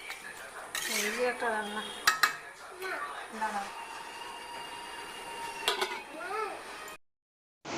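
Vegetables with spices for a taro-leaf and shrimp curry are stirred in a pan, with metal spoon clinks and scraping against the pan over a soft sizzle. Faint voice-like tones run underneath, and the sound cuts to silence near the end.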